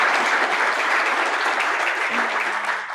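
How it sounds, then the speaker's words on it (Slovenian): An audience at an award ceremony for plaques from the National Council of Slovenia applauds in a dense, steady wash of clapping, loud and continuous throughout. "Zdaj po tem vašem čudovitem aplavzu pa bom prebrala še obrazložitev."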